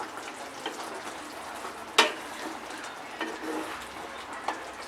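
White chicken being stirred in a pan as it cooks, a soft steady sizzle with a few sharp scraping strokes of the spoon, one loud scrape standing out midway.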